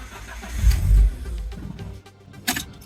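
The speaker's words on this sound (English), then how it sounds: "Yeah, basically dies immediately." Cold start of a BMW E36 with a no-idle fault: the starter cranks, the engine catches with a loud close roar, then quickly sags and dies, leaving a faint tail.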